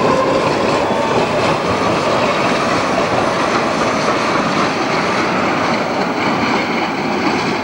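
Budapest tram running on the tracks in 1989, a loud steady rolling rumble and rattle with faint rhythmic wheel clatter, close by and continuous throughout.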